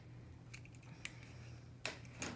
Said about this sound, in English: I will use a little piece of wire that I'm gonna cut right now